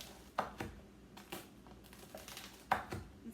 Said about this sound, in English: So all you have to do now is just cut the bread. So you just cut like big chunks,